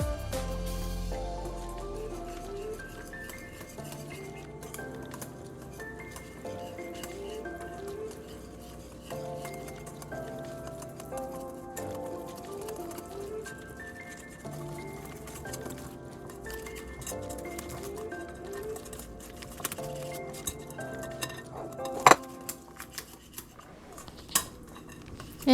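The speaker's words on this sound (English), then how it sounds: "Then you just want to whisk this together." Brownie batter for fudgy walnut brownies being whisked in a bowl, soft repeated rhythmic clinks and scrapes of the whisk against the bowl, fairly quiet throughout with a few sharper knocks near the end.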